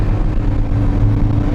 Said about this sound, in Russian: Можно резко ускориться,